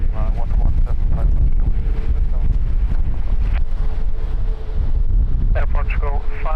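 Strong, gusty wind buffets the microphone at Lisbon Airport, with a steady low rumble and roar throughout and a radio voice talking over it in bursts.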